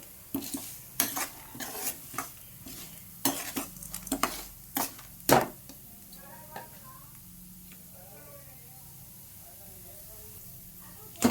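Cumin seeds fry in a pan for a curry leaf spice powder. A spatula scrapes and clinks in quick bursts over the first few seconds, then a soft, low sizzle carries on beneath.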